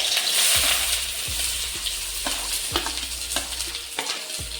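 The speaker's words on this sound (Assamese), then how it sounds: "এতিয়া ইয়াত মই পিঁয়াজখিনি বহাই দিওঁ।" Chopped onions frying in hot oil in a pan on a gas stove over medium-low flame, with a steady loud sizzle and repeated soft scraping stirs at a regular pace, no voices.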